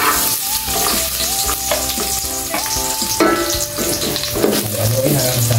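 Garlic hits hot oil in a pan with a loud, steady sizzle and crackle, close up, with stirring clatter over the frying and no talk.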